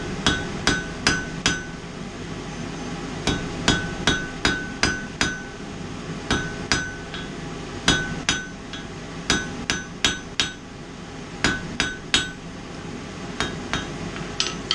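Steady hammer blows ring out on hot metal while a small 6mm pin with a square end is forged using a set on an anvil edge, dozens of sharp, evenly spaced strikes close up with no voices.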